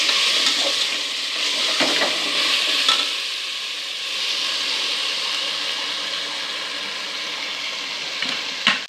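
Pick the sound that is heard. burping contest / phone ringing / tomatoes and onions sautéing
tomatoes and onions sautéing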